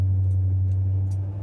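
A loud 1960s car engine with an electronically controlled transmission, revving hard at wide-open throttle during a kickdown test as a deep, steady roar close by, with no talking.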